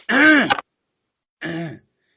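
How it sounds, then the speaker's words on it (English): A man clears his throat in two short bursts, a longer rasp followed by a brief second one after a pause, close and alone. "clearing his throat"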